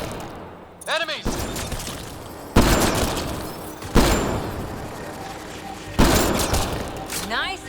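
Sharp bursts of gunfire from a Mass Effect: Andromeda battle hit in three or four loud volleys, each trailing off, with voices talking between and over the shots.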